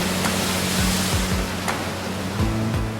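Sea waves washing onto a sandy beach in Split, Croatia, heard as a continuous broad rushing surf with a faint low steady hum beneath it and no voices.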